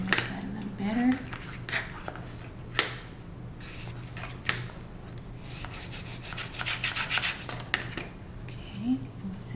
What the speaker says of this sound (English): Come over here and burnish that a little better.